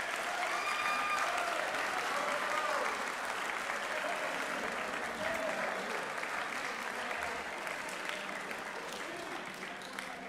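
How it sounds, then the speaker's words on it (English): Student athletes at a school sports awards event give their coaches and staff a long round of applause, a dense, steady wash of many hands clapping that fills the room at an even level throughout, with faint crowd murmur underneath. "give your hardworking coaches and staff a round of applause"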